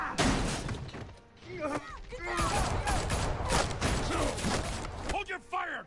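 Rapid, dense gunfire bursts from a Batman video game keep crashing on for several seconds, loud and near, with shouting voices mixed into the chaos.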